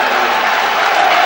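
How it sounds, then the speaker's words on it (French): A stadium crowd at the Standard Liège vs Vitória Guimarães UEFA Cup first-round match in 1995-96 gives a brief, dense burst of steady applause. "des applaudissements du public qui ne s'y est pas trompé, qui a vu évidemment le même match que nous"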